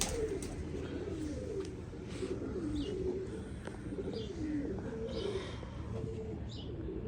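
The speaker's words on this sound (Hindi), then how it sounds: "नर भी जो है वो प्योर डब वाला कबूतर है, अपनी नस्ल में ब्लड वाइज प्योर कबूतर है।" Teddy breed pigeons coo in a steady, repeating rhythm, with soft throaty calls close by and a few faint higher chirps in the background.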